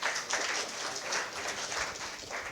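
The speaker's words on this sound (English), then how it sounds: "let's give him a good round of applause here" An audience at an expert talk on communication claps for a speaker, a dense and even round of applause from a fair distance that holds steady the whole time with no voices.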